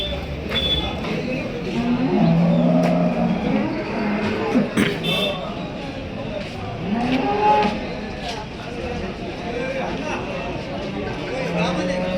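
A large pregnant cow at the Chakan cattle market moos repeatedly, close and loud, over a steady din of market crowd noise and people talking nearby.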